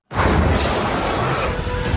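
A huge explosion from the action film Fast X roars as one dense, sustained blast of rumbling, crackling noise that starts abruptly and fills the whole stretch with loud, close, low-heavy debris and fire.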